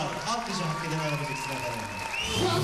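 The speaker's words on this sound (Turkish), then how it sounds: "Türk bayrağı vatan özlemi çeken 2500 kişinin ayakta alkışlanmasına neden oldu" A standing ovation from an audience of about 2,500 at a Turkish community evening in Europe, a dense, continuous applause that holds steady throughout and rises a little at the end, heard with talk over it.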